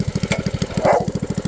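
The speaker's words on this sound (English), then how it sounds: "go ahead and cut the gas off and let it kind of idle down there" A mini bike's small engine idles close by with a steady, rapid putt-putt pulse, and a brief rise in tone near the middle as the throttle comes off.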